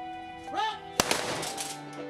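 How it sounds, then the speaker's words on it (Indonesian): A single sharp rifle salute volley at a military funeral cracks out close by, followed by a rolling echo, with a brief voice just before it. "Sebelum dikebumikan, tembakan salvo dilepas sebagai penghormatan terakhir."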